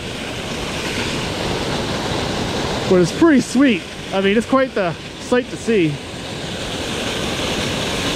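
Water roars continuously as it gushes under pressure from an old mine shaft at Big Mine Run in Pennsylvania, a steady rushing wash heard through wind noise. Someone talks briefly over it midway.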